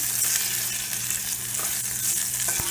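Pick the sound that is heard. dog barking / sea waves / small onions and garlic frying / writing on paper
small onions and garlic frying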